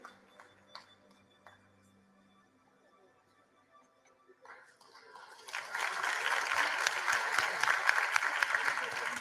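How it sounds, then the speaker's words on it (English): An audience at the 2023 matric examination results announcement breaks into a sustained round of applause for the top learner, starting after a few quiet seconds of faint speech and room noise, then swelling into steady, dense clapping to the end. "Can we please give her a round of applause?"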